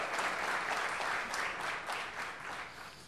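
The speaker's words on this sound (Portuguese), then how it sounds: "que eu quero desejar uma salva de palmas" Dense, even applause fills a legislative chamber during a solemn session honoring football champions, a sustained wash of many hands clapping at moderate loudness for about three seconds.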